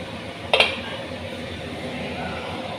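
A cooking pot lid is lifted off a pot of boiling bhola fish kalia curry, giving one short metallic clink near the start, followed by a soft, steady background hum.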